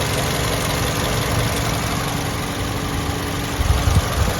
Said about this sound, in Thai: ผมติดเครื่องเปิดแอร์แล้วเนี่ยเครื่องยนต์เนี่ยนิ่งๆเลย